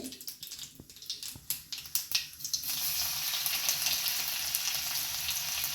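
Chopped garlic hits hot oil for a safflower greens dish, starting with a few sharp crackles and pops, then settling into a steady, loud, continuous sizzle close by with no voices.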